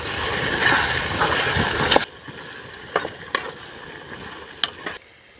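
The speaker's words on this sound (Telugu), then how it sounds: "టమాటాలు కూడా బాగా వేయించేసుకున్నాం. టమాటా వాడిపోయింది, కాలీఫ్లవర్ పువ్వు వేసేస్తుంది." Tomatoes and cauliflower fry in a pan. A dense, loud sizzle fills the first two seconds, then quieter frying continues under sparse scraping and stirring clicks.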